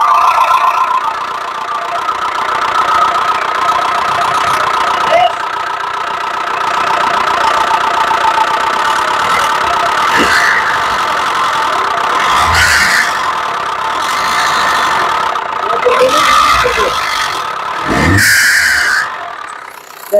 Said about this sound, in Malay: Sekarang dia jalan lagi tuh turbo tuh.